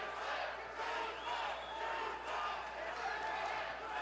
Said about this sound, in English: Half the crowd here is chanting Junmar, Junmar. The other half is chanting Higgy, Higgy.